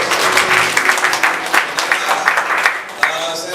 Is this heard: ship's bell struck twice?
no